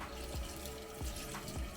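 Tap water runs steadily over a blue crab being rinsed under a faucet, a close, continuous splashing hiss with a few soft thuds as the crab shifts under the stream.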